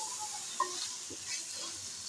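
Tomatoes sizzle steadily in a hot pan while a spoon stirs them, with a single brief scrape standing out against the constant close frying hiss.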